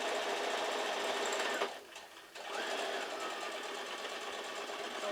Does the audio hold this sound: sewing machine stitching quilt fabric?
yes